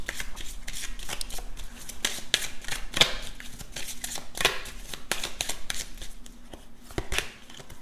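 A Kipper fortune-telling card deck is shuffled by hand in a steady run of crisp, papery riffles and flicks, close and fairly quiet, with a few sharper snaps and no voices over it.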